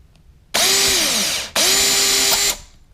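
A power drill whines loudly in two bursts while drilling out a wheel rivet, the pitch dipping as it bites into metal and hits bottom, with a short pause between.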